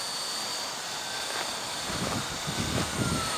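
A helicopter hovers and then moves into forward flight, giving a steady, loud droning whine with a broad rushing wash that swells slightly toward the end.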